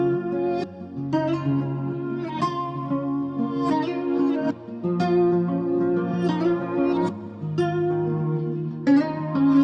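Two layers of the same Afrobeats guitar part, the dry original and a consolidated reverb-heavy copy, play together as a dense looping riff of plucked notes over held bass tones, steady and full with a lingering echo, no talking.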